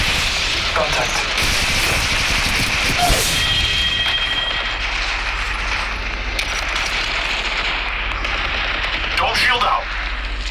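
Gunfire from a match of the mobile video game Apex Legends Mobile, with bursts of rapid automatic shots and single cracks over a constant game backdrop, while a player's voice talks at times.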